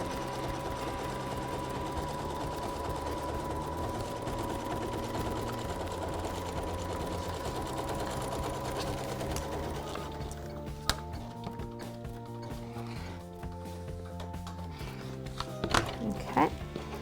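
An embroidery sewing machine stitches on a quilting project, making a fast, steady mechanical chatter whose pitch shifts in stepped patterns as it runs, with faint talk in the background.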